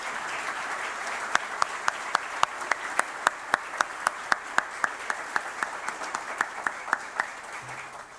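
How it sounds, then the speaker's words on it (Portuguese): An auditorium audience at a civic ceremony gives a steady round of applause. A continuous bed of clapping is punctuated by sharper, regular claps, moderately loud throughout. "pediria ao nosso auditório, às nossas autoridades aqui, uma salva de palmas em homenagem a eles"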